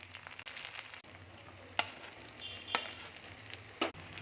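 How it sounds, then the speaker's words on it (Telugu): A tempering of dried red chillies, seeds, onions and curry leaves fries in oil, making a quiet steady sizzle broken by a few sharp stirring clicks and knocks, with no talk. "ఫస్ట్ పోపు పెట్టుకోవాలా. ఎండుమిర్చి, తాలింపు గింజలు, నెక్స్ట్ వచ్చేసి ఉల్లిపాయలు"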